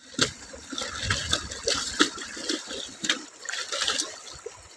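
Water flows and splashes in a fluctuating, gushing rush, close and fairly loud, with no voices over it.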